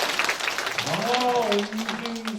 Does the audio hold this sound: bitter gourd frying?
no